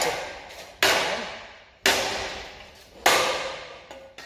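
A broken Clipsal ceiling fan is smashed with a tool in three sharp, heavy impacts. Each blow is followed by a clattering, rattling decay. A small knock sounds at the very end.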